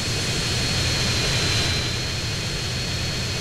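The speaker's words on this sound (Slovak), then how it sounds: "Takže ideme, dámy a páni, s touto stíhačkou, súkromným lietadlom." Fighter jet engine in the GTA San Andreas video game, a loud continuous roar with a steady high whine, heard alone without speech.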